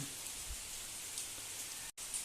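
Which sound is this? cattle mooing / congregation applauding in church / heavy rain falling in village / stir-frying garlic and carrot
heavy rain falling in village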